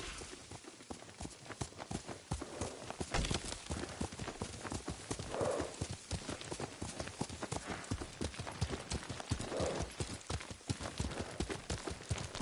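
Horse hoofbeats clip-clop steadily and fairly loud through the whole stretch while riding in Ghost of Tsushima, with a brief whinny or two mixed in.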